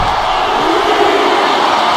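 A capacity arena crowd in a WWE wrestling video game roars steadily and loudly, a continuous wash of cheering and shouting with no breaks across the short stretch.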